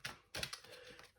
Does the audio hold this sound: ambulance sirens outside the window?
no